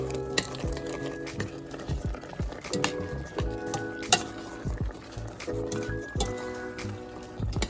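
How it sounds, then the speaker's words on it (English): Dry ingredients being stirred into cooking apples for a Dutch apple pie, a steady wet squishing and scraping with a soft sizzle, repeated stirring strokes close up and fairly quiet, without talk. "Now I'm gonna mix this in"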